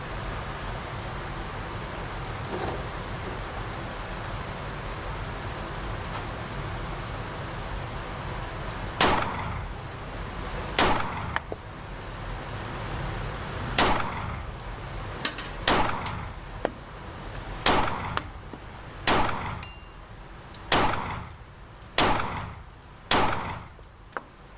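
A Glock 43x pistol running stock magazines fires about ten sharp, loud shots, first spaced out and then in a quicker irregular string, after a quiet stretch of room noise.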